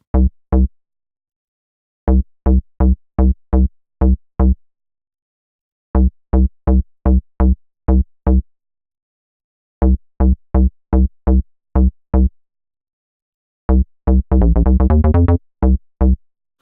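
Short, punchy synth attack bass notes in rhythmic bursts with gaps between phrases, ending in a rapid stuttering roll; no voices.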